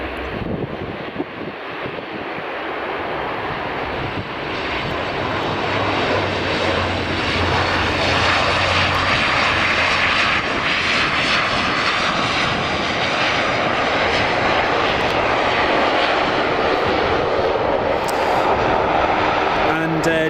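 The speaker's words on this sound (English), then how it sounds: "let's watch this ATR land, shall we?" A Loganair ATR 42-500 turboprop lands at Aberdeen Dyce airport, its engine and propeller roar loud and steady throughout as it passes close, with heavy wind noise on the microphone and a voice talking beneath.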